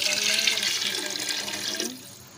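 Water poured into a cooking pot of fried potatoes and chicken, a loud close splashing stream that runs steadily, then tapers off and stops near the end.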